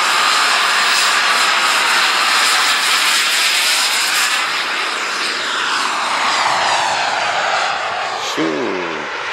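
A fixed-wing airplane takes off with a loud, sustained engine roar that fills the scene and slowly shifts in pitch as it passes, with faint voices underneath.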